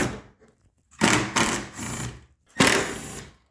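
A power driver with a Torx 30 bit unbolts the headlights on a Ford Focus, giving three bursts of buzzing whir, close and fairly loud, separated by short pauses with faint clicks.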